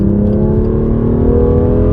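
A 2019 BMW M2 Competition engine revs steadily at half throttle, a loud, continuous low growl with rising harmonic tones throughout.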